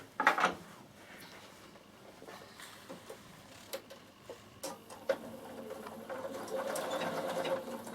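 A Bernina sewing machine top stitching a summer peak cap: a few clicks and knocks give way to a steady mechanical whirring that builds toward the end, close and moderately quiet, with no voices.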